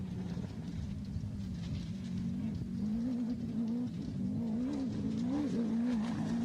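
Distant engines of off-road race cars droning and revving along the NORRA Mexican 1000 course in Mexico, rising and falling in pitch, with faint birdsong in the background.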